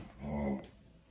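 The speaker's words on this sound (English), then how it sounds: "That's my dog, by the way. He wants attention." A pet dog close by lets out a low growl that slides into a whimpering, huffing whine, a single short vocal burst over a quiet indoor room.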